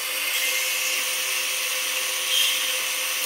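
Metal tie bar blanks being cut to length with a power tool, a steady loud high-pitched grinding whine that holds constant throughout with a slight swell partway.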